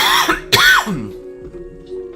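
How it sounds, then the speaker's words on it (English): A person coughs and clears their throat twice, with short hoarse bursts close by in a quiet room. "I'm going to be coughing like all stream."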